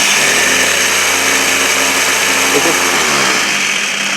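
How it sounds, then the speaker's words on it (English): An electric grinder grinds a tray of food with a loud, continuous motor whine and whir that holds steady close by throughout. "I'm going to grind it up with this grinder."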